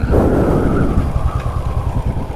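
Royal Enfield Classic 500 Desert Storm, an older single-cylinder 500 cc variant, thumping steadily in top gear at cruising speed, a loud, continuous low engine drone with wind rush and no talk.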